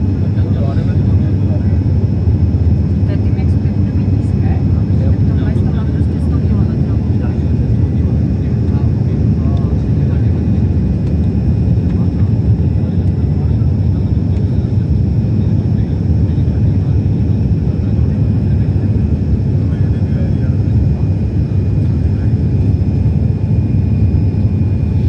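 Steady, loud airliner cabin roar of engines and airflow during descent into Kathmandu, Nepal, a constant low rumble throughout with a faint hiss above.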